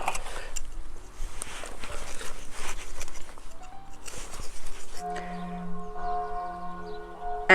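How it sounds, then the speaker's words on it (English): Church bells ringing outdoors in a garden, the steady tolling tones emerging in the second half after general outdoor noise, moderately loud and sustained. "the church bells have started ringing"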